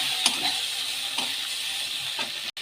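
Spices, onion and green chilli sizzle in hot fish oil from katla fish, with cumin, chilli powder, turmeric and salt added: a steady close hiss with a few brief stirring scrapes.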